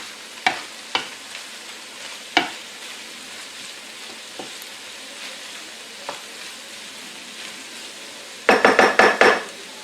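Ingredients for Peruvian arroz chaufa are stir-fried in a pan, with a quiet sizzle broken by sharp scattered clanks of utensil on metal and a final burst of rapid scraping and tossing.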